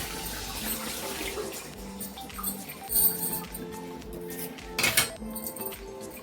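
Dried fish (karuvadu) being washed by hand under a running kitchen tap, with a steady water stream, splashing and light clinks of a bowl, heard close with no talking.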